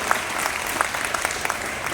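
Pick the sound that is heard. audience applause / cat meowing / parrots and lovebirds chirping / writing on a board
audience applause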